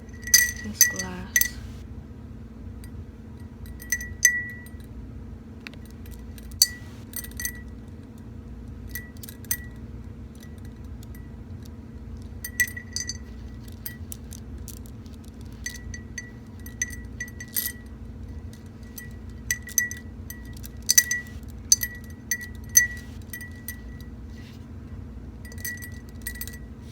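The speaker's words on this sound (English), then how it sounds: "So now I'm just going to be taking this glass" Delicate glass chinks and clinks as a glass is handled in a quiet ASMR setting, with scattered light taps spread unevenly across the clip over a low steady hum.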